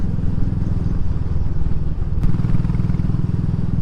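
A Royal Enfield Classic 500 with a 500cc fuel-injected single-cylinder engine is being ridden, giving a steady, close, low-pitched thump with an even chugging pulse and one brief click partway through.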